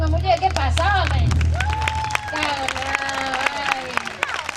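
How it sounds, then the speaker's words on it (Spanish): Audience women at a traditional Galician serán dance session clap and cheer together, a dense burst of applause with crowd hubbub, while other voices speak and sing over it. "solo aplauden as mulleres, solo aplauden as mulleres"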